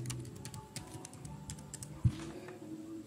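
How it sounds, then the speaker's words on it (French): Fingers tap on a computer keyboard in a quiet room, a series of soft, irregular keystrokes with one sharper key press near the middle. "Je tape Roman. Je tape @gmail.com. Je tape entrée, mot de passe."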